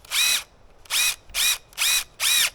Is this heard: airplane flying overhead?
no